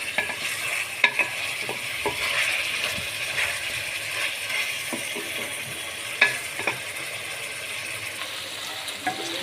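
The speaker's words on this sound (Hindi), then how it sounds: "चिकन और आलू को फ्राई करना है इस मसाले में।" Chicken and potato pieces frying in a masala for korma, with a steady soft sizzle and repeated scraping strokes of a spoon stirring the pan.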